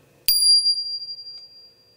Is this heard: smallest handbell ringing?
yes